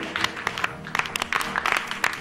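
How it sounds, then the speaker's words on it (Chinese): A studio audience claps for a dance act on a Chinese variety show, a brisk patter of many hands with louder sharp bursts, moderately close and continuous, no talk over it. "掌声欢迎"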